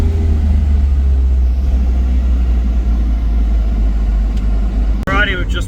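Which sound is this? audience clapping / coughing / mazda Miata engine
mazda Miata engine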